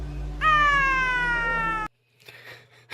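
A human voice imitates a screeching Tonkinese cat with its tail caught in a closing window: one loud, strained, wavering wail of about a second and a half, then quiet shuffling.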